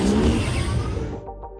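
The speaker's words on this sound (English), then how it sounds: "We have the Tron motorcycles." A futuristic light-cycle motorcycle effect from a film sound library, a loud close engine whine that sweeps past and fades away, lasting under two seconds.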